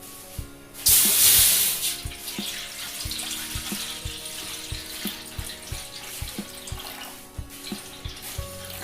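Water poured into a large pan with a metal ring inside, a loud rushing splash at first that settles into running water with light regular clinks and taps nearby.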